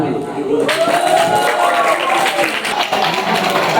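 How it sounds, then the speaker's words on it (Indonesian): An audience applauds a winner at a boys' preaching competition for a Maulid Nabi celebration, with loud, continuous clapping and crowd noise mixed with voices. "Tepuk tangan."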